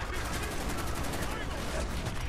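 Rapid automatic gunfire in Call of Duty Black Ops, a loud, continuous stream of close shots with no pauses.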